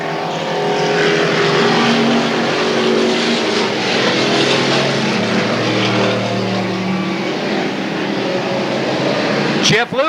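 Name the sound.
hot stock race cars racing at Cowtown Speedway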